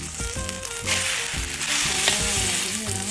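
Homemade fish cakes frying in a wok make a loud, close, continuous sizzle with bursts of crackling, mixed with the clatter of a spatula stirring and scraping, and no voices.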